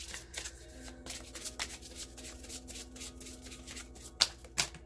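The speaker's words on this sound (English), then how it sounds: "I'm going to end the shuffle." A deck of tarot cards being shuffled by hand, a steady soft riffling and sliding of card stock at close range, ending with two sharper slaps as the deck is squared.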